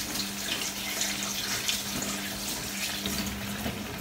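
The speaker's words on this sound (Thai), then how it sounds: "ล้างถ้วยล้างชามไปด้วยจ้ะ" Dishes are washed under a running kitchen tap, with a continuous close splash of water hitting a sink and dishes, steady and fairly loud throughout, no voices.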